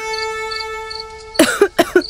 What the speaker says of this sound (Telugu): ఇది ఒరిజినల్ దగ్గు